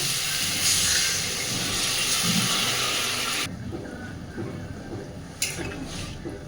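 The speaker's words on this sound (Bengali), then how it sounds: "বেগুনটা দিয়ে হালকা হাতে একটু নাড়াচাড়া করে দিয়ে দিচ্ছি জল" Water hits a hot pan of fried eggplant, producing a loud, rushing steam hiss that cuts off abruptly partway through, leaving a low bubbling simmer with a brief burst of hiss near the end.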